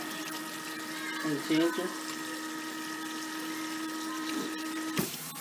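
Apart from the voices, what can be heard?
water rinsing out a hair treatment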